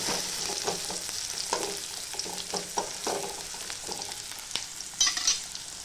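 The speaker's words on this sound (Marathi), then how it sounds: "आता मी कढईमध्ये तेल टाकते आहे हा कांदा तर तेलामध्ये ते परतून घेते चांगलं लाल रंग येईपर्यंत त्याला परतून घ्यायचा" Onion frying in oil in a kadai for chicken fry, a moderate steady sizzle broken by repeated spatula stirs and scrapes, with a brief sharper crackle near the end, close and without talk.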